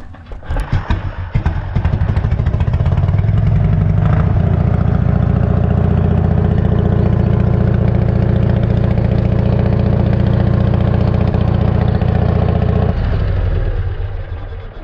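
A vintage BSA motorcycle engine sputters to life and then idles steadily at a low, throbbing rumble, loud and close, before cutting off near the end.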